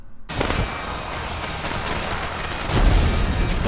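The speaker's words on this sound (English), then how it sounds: "Whoa, fireworks." Fireworks in the Pokemon Sword and Shield video game crackle and boom in a dense, continuous barrage, loud and close, swelling into a heavier burst near the end.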